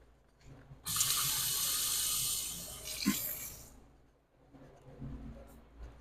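Kitchen tap running into a cup of water, a bright rushing stream that starts abruptly, holds for a few seconds, then stops, followed by quieter handling sounds.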